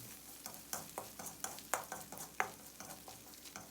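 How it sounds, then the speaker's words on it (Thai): Garlic, coriander root and pepper paste stir-frying in a little oil for Thai boiled rice soup, with a steady sizzle and repeated scraping strokes of a spatula against the pan, close and alone. "ผัดสามเกลือของเราให้แตกกลิ่นหอมเลยครับ"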